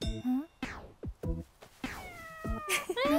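A cat meows several times in quick, uneven bursts, some drawn out and wavering, close and fairly loud.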